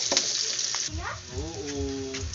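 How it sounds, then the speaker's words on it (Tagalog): Garlic and onion sizzle briskly in a hot pan while being sautéed, a steady close frying hiss that is joined midway by a brief wavering tonal sound. "gisa lang po ng mabuti ang bawang at sibuyas dahil lumabas yung aroma"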